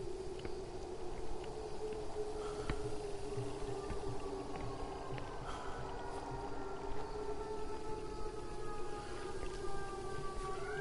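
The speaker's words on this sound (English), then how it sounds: "that's a siren from outside" A siren wails from outside in the horror game Song of Horror, its long rising and falling tones drifting steadily over a low droning ambience for the whole stretch, moderately distant.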